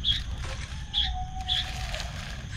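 Birds sing outdoors at a mountain campsite, giving three short, high chirps spaced about half a second apart, faint and a little distant over a low background rumble.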